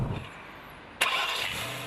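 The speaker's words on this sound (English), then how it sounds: "Porsche's engineers outdid themselves with the V8's repertoire of sounds" A Porsche V8 engine fires up with a sharp burst partway through, then settles into a steady, fairly loud running note, close by with no talk.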